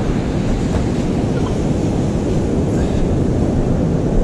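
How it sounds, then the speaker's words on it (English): Waves wash up against a seawall on a beach after a cold front, a steady, loud roar of surf and churning water mixed with wind buffeting the microphone, with no talking. "I'm right up against the seawall and the waves are coming up here."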